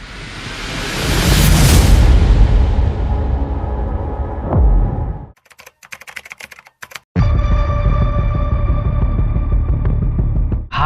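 A loud, close explosion bursts with a heavy, roaring rumble that slowly decays, followed by a brief crackling gap, then a sustained dense rumble of aftermath.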